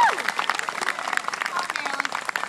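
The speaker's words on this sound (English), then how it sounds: "Let's have another round of applause for Susan and a great team" Crowd applause at a neighborhood National Night Out gathering in Kensington, a quick patter of clapping with a few voices mixed in, fairly faint and fading in level.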